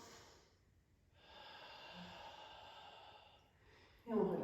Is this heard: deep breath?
yes